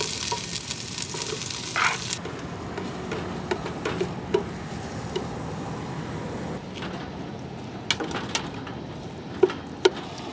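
Onions and garlic sizzle steadily in a pan at a camp stove on a windy beach, a continuous hiss with occasional clicks and scrapes of stirring, no talk.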